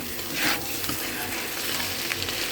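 Bitter gourd slices fry in a pan alongside fish roe, giving a steady, close, crackling sizzle with soft stirring scrapes and no voices.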